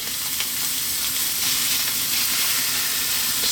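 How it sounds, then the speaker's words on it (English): Steak fat sizzles on a hot cooking plate, a steady, loud, close frying hiss that holds unbroken for several seconds with no talking. "hold it on the side so that the fat is cooking on that plate there"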